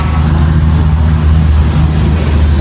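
Heavy trucks pass along a roadside, a loud, low continuous engine rumble close by with no voices.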